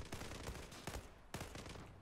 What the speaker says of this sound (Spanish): Pego dos o tres tiros ahí de bienvenida.